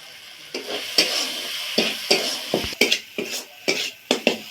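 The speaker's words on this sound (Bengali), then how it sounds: "মশলাটা ভালোভাবে কষিয়ে নিয়েছি" A pan of cumin, coriander and Kashmiri chili powder spice paste is stirred and fried, with repeated sharp scraping and clinking spoon strokes over a low sizzle, close and rhythmic, without speech.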